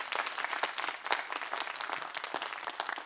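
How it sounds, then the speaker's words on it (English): An audience applauds panelists after an academic panel discussion, a steady, moderately distant round of many hands clapping that holds evenly for about three seconds. "Round of applause for our panelists"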